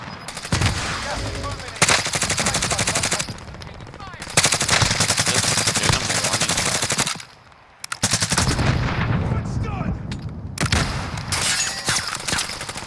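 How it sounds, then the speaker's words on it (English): Video game gunfire: dense, sustained automatic bursts that are loud and near, stopping briefly now and then before resuming, with voices talking faintly underneath. "Brian, why are you shooting?"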